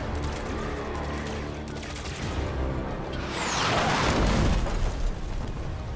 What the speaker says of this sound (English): I'm under fire from enemy air units.